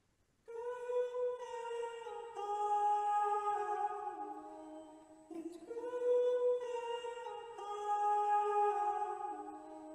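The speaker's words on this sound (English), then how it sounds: "the choir sounds like this" Sampled choir voices hold sustained chords drenched in heavy reverb, forming a soft, wide, airy wash that shifts chords a few times, fairly quiet and with no other sounds.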